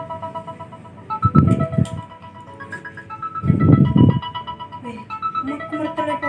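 A phone ringtone plays a repeated melodic tune, fairly close, while a voice speaks over it in two louder bursts.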